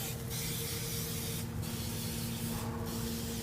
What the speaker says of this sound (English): Give the top a good spray.